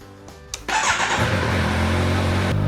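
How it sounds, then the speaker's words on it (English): A Kawasaki Ninja 1000SX motorcycle engine cranks briefly and fires up, then settles into a steady, loud, close idle. "turn on your motorcycle, make sure it's in neutral, make sure your clutch lever is released, and the engine starts"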